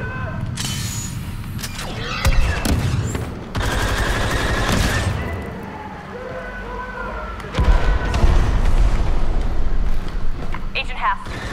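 Turret gunfire in the Star Wars Battlefront II video game campaign, repeated loud blaster bursts and impacts in a dense firefight, with a voice talking at times.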